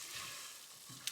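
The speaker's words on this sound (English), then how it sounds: "So now I just usually fry this for about 5 minutes." Food sizzling steadily in a pan while being fried for a lasagne, a soft continuous hiss with a brief sharper crackle near the end, heard alone without any voices.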